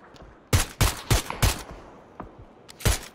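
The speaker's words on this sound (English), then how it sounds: "I'm just shooting their tires." Loud close gunshots in PUBG aimed at a vehicle's tires: four quick sharp reports in a rapid burst, then a pause and one more shot, each cracking against a quiet background.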